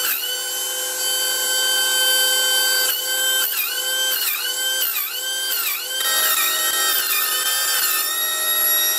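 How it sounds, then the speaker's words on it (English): An air compressor kicks in at a metalworking bench while a belt-driven pulley setup runs and throws sparks, giving a loud, steady mechanical whine whose pitch dips and recovers repeatedly as the motor takes up load. No voices are heard. "And there's the compressor kicking in."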